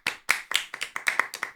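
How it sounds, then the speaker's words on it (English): A reactor to an acoustic song claps his hands by himself, close and fairly quiet: about eight crisp claps in an uneven rhythm over a second and a half, with no talking. "Yeah, let me go clap for this one."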